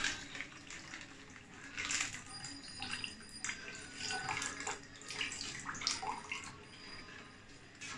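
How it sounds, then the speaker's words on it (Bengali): Liquid milk is poured into palm juice halwa in a pan, a soft, steady splashing and trickling heard faintly and close, without talk. "এখন আমি এখানে দিয়ে দিব হচ্ছে লিকুইড দুধ অ্যাড করব।"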